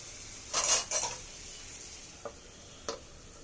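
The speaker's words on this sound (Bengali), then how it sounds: "ঢাকনা উঠিয়ে দেবো" A lid is lifted off a pan of frying sweet pumpkin, making a pair of close metallic clatters followed by two small, sharp clicks against a quiet kitchen background.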